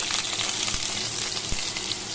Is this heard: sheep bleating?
no